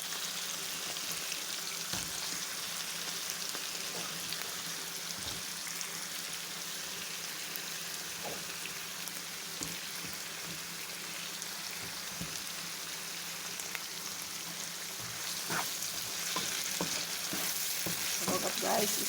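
Carrots sautéing in a pan with garlic, onion and chili give a steady, soft frying sizzle, a continuous hiss with occasional stirring clicks and pops, growing a bit louder near the end.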